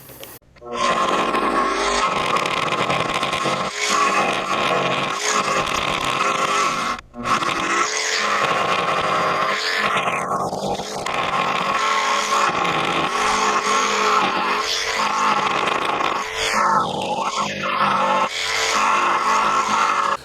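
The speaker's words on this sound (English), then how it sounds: "we're gonna go ahead and use my jigsaw, go ahead and cut this hole out real quick" A jigsaw cuts a hole in a wooden beekeeping feeding board, a loud, continuous buzzing whine with a rapid reciprocating rasp, broken by a brief stop and pitch shifts as the blade works through the wood.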